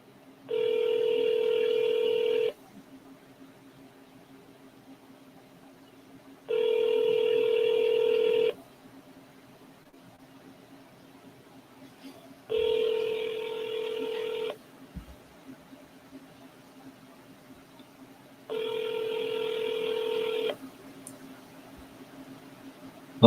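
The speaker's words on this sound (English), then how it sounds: "Look, sounds like a landline." A landline telephone ringback sounds through the line, four evenly spaced two-second tones separated by long gaps of faint line hiss, clear and steady.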